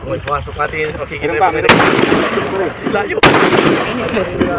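Rifles fire during army reservist marksmanship training: two sharp, loud shots ring out with echoing tails, while a voice talks just before the first.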